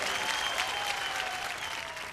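Dense, steady applause from an audience at a Hindi stand-up comedy show, filling the whole moment with no voices.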